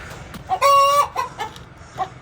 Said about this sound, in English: We got a chicken laying in here now?